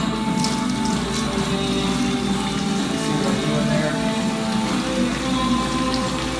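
Water running steadily from a sink faucet built from tires in a Ford's Garage restroom, a continuous close splashing hiss, with someone talking briefly over it.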